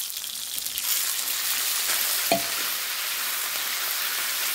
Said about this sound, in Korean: 소뚜껑에다 밥을 비벼서 먹어보겠습니다